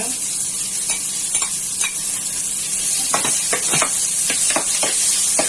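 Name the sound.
ginger frying in pan for tinolang manok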